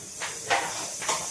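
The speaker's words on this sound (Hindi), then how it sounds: "सब्जी बन रही है कुकर में" Pressure cooker on a home kitchen stove cooking vegetables, releasing three short bursts of steam hiss over a steady faint background hiss.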